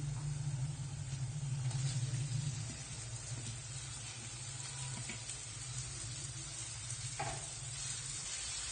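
Minced meat hits a hot frying pan with onions and bursts into a loud, steady sizzle that settles into a continuous crackling hiss, with no voices.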